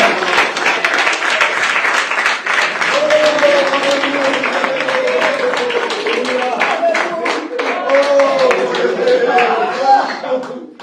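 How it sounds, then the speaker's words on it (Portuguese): A congregation at a church youth congress claps steadily, a dense, continuous round of applause that runs the whole time, while a preacher's voice talks and calls out over it. "Isso, aplauda, aplauda, aplauda."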